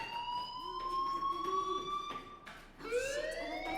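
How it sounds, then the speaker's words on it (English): A fire alarm in the video game Life Is Strange Remastered rings as a steady, piercing electronic tone that holds and then shifts pitch near the end, continuous and loud, with faint game ambience underneath. "Hey, do you hear that fire alarm? That means you should be outside."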